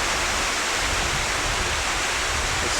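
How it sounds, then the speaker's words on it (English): A small, clear waterfall pours in a steady, unbroken hiss of falling water, close and even throughout with no voices over it. "How cool is this little waterfall?"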